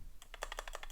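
Someone types a terminal command on a computer keyboard in a quick, close run of about eight crisp keystrokes, with no other sound.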